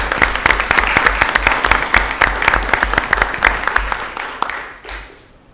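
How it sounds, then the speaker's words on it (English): A round of applause at a city commission meeting, a small group clapping with sharp, distinct claps close by, loud at first and then thinning and fading out toward the end. "I think a round of applause."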